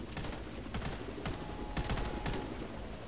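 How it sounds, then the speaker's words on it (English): Rifle fire in a first-person shooter game, a run of sharp separate gunshots at uneven intervals with a steady background wash of noise, no talk. "You're shooting at nothing, Dalton."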